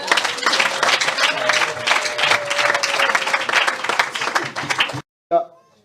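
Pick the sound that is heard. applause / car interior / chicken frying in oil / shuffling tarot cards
applause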